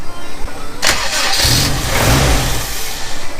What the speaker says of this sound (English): Super excited that this thing turned on.